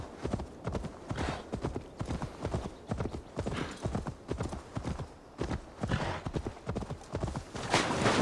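Horse hooves galloping in Assassin's Creed Valhalla, a steady, close, loud clip-clop rhythm running throughout, with a brief whinny and some game sound mixed in.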